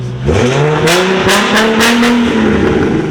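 A Nissan 350Z engine with an aftermarket exhaust revs hard and loud nearby, the exhaust note climbing and wavering in a sustained roar with sharp crackling pops.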